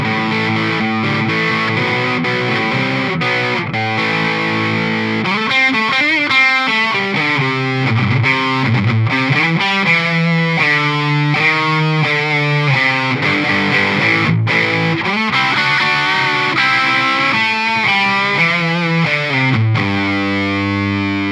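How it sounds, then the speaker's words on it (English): A heavily distorted electric guitar plays chords and riffs through a high-gain Marshall-in-a-box distortion pedal, thick and saturated, sustained throughout. "It's a really gnarly high gain distortion."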